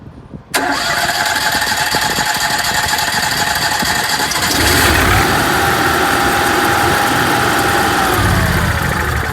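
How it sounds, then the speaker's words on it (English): The onboard generator of a 2017 Fuzion RV fires up from its exterior compartment with a quick crank, then settles into a loud, steady close-up drone that swells slightly partway through. "If you decide to start your generator from out here, like this."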